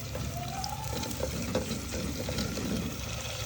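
Curry leaves fry in hot oil in a home kitchen, giving a quiet continuous sizzle with a few small pops and clinks, close and low in level, with no talk.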